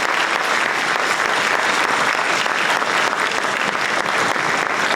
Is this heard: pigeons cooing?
no